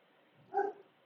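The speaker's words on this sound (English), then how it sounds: "My dog is barking like crazy." A single short dog bark at moderate distance, heard once over a faint steady background hum.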